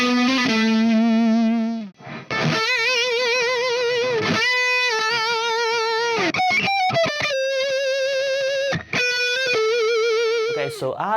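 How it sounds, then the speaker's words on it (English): An overdriven Marshall SC20 guitar amp through a Torpedo Wall of Sound plays a distorted lead line with heavy vibrato bends, sustained notes and quick bursts of picked phrases, loud and continuous with brief pauses. "let's start from some distorted sound, some overdriven sound from the song"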